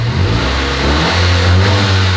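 A Tata Nano small car engine revving steadily, a close, loud mid-pitched drone that climbs slightly toward the end, with no voices.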